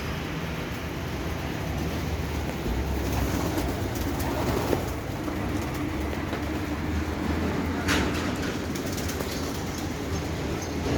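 Pigeons coo softly and continuously in a coop, the low murmuring blended into a steady wash of background noise with a few faint clicks, no voices.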